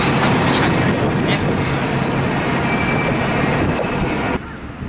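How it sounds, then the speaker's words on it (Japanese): A freight train hauling limestone on the Iwate Kaihatsu Railway reverses past at close range with a steady rolling roar and faint wheel squeal, ending abruptly as the noise drops. "貨物列車が今度はバックで戻ってきました。"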